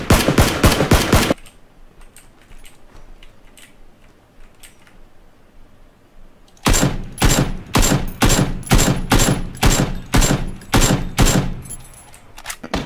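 Automatic gunfire in the video game PlayerUnknown's Battlegrounds: a rapid burst at the start, a lull with faint distant shots, then a long loud sequence of rhythmic repeated shots up close.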